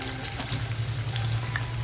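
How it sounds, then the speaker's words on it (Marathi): Chicken pieces frying in oil in a small wok, a soft, even sizzle and crackle with no voices. "छोट्याशा कढईमध्ये थोडं थोडं चिकन मी फ्राय करते"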